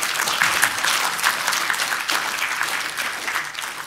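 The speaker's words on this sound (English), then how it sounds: "it's probably the only panel where people clap at every single slide" A convention audience at a Fanfest art and graphics panel claps in a sustained burst of applause from many hands, evenly dense and fading slightly toward the end.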